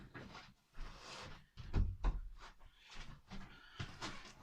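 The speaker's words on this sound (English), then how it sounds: "I'm just going to go and shut this door 1 minute" A door in a small back bedroom is pushed shut, a couple of low thuds near the middle amid rustling footsteps and handling noise, fairly close with no talk.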